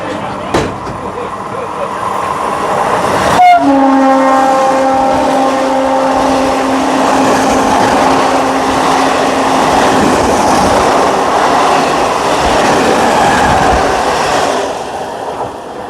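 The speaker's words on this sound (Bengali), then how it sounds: "আমাদের ট্রেন শিয়ালদা সাবরুম কাঞ্চনজঙ্ঘা এক্সপ্রেস নির্ধারিত সময় থেকে মাত্র 3 মিনিট লেটে ছেড়ে দিয়েছে শিয়ালদা স্টেশন থেকে" The Sealdah–Sabroom Kanchenjunga Express rolls out of Sealdah station with a steady rumble of running wheels, broken by one long, loud horn blast that rings for several seconds before fading into the ongoing clatter.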